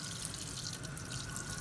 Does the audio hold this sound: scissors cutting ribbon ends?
no